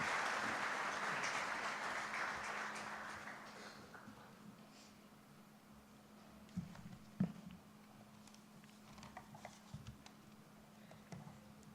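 A hall audience at the FICCI-IBA FIBAC 2024 banking conference applauds to welcome the RBI Governor. The dense clapping fades out over a few seconds, leaving room ambience with a steady low hum and scattered footsteps and clicks.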